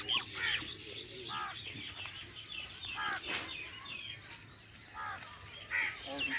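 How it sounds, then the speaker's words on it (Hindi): Crows and other birds calling in a mango orchard, scattered caws and chirps near and far over a faint outdoor background, with some distant voices. "परिंदों की आवाज़ें"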